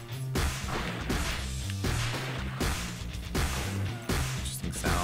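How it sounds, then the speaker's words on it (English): Missile explosions in the video game Circuit Breakers, several loud crashing blasts with a steady low rumble and whooshes between them, repeating about every second or so. "Pretty good explosion effect."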